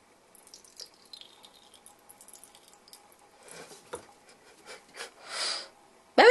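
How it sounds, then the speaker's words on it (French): Water from a tap in a home bathroom starts running near the end after a stretch of faint shuffling and sniffing, swelling into a short rush that bursts loud at the finish. "Attention, ouvrir l'eau."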